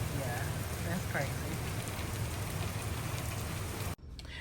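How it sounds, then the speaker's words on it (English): Very heavy rain pours steadily outside a building in a dense, continuous hiss that stays loud and unbroken, then cuts off abruptly near the end. "this video doesn't even do justice how hard it's raining"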